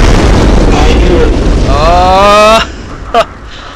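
A loud booming explosion in the video game Bloodborne fills the opening seconds with a heavy rumbling roar, then cuts off abruptly, leaving a brief sharp hit and faint tail.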